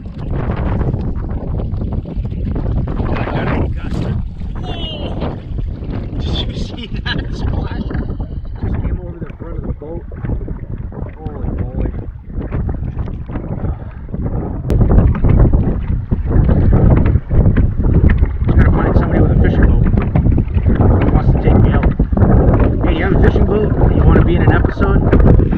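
Strong wind roars across the microphone while a boat is cranked along on Muskrat Lake, a heavy steady rumble with watery buffeting that grows louder partway through, and a voice talks over it at times.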